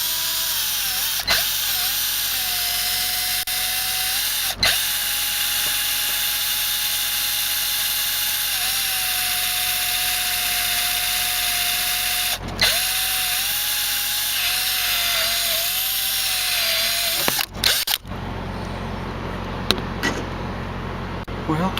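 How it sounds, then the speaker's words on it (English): A power drill whines steadily for a long stretch drilling a hole for a hinge spring on a Freightliner Century Class truck, its pitch dipping as it bites, with brief clicks between runs before it stops. "so I'm going to go ahead and drill this"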